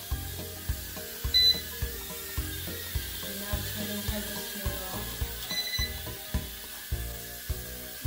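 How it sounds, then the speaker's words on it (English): A Holy Stone HS210 mini drone in headless mode beeps repeatedly in a regular rhythm, short electronic pips recurring under faint background noise. "You can notice it's on headless mode because it's beeping."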